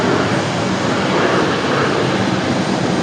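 An American Airlines Boeing 777 departs Raleigh Durham International Airport for London Heathrow, a steady broadband jet roar that holds at a constant level for a few seconds, with no voices.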